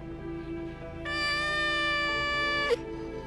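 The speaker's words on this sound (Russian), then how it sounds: "Подобрали кошку, она очень сильно кричит." A rescued cat cries loudly: a soft whining mew rises into one long, sustained, piercing meow, ending in a sharp upward squeal, close to the microphone with no talking.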